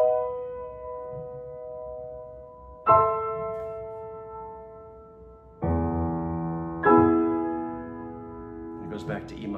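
Sustained woodwind chords of the opening of Mendelssohn's Midsummer Night's Dream Overture, four held chords entering one after another at a moderate concert volume, each swelling slightly higher and fuller than the last.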